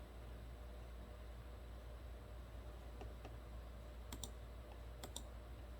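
A few faint, sharp computer mouse clicks, two close pairs near the end, over a quiet steady hiss, while a 2005 Corvette's evap system is commanded on with no audible response.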